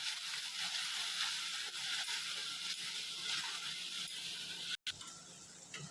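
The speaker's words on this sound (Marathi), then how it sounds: "आपण मगाशी केलेली टॅमॅटो प्युरी, टॅमॅटो मिरची प्युरी टाकूया।" Tomato and chilli puree tipped into onions browning in oil for Kokani kaju masala: a steady, close, bright sizzle and hiss throughout, broken by a brief silent gap near the end, with no talk.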